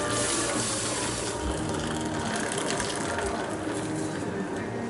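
Cooking water from a pan of boiled vegetables pours steadily into another pan in a home kitchen during stew making, a continuous close splashing gush with no pauses.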